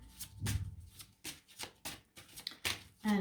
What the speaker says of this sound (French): On va rajouter une dernière carte pour vous.